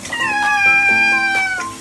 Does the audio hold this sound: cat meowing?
yes